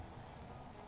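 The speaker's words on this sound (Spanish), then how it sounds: "No, acid rain. Cuidado, lluvia ácida." Acid rain falling steadily in the Roblox game Natural Disaster Survival, a continuous dense patter with no talking over it.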